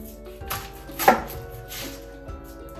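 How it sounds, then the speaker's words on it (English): A knife cuts through an onion on a cutting board, giving a few soft, close chops and taps with one sharper thump near the middle, quiet and unhurried, with no talking. "So to cut our onion, we will start by cutting off the top."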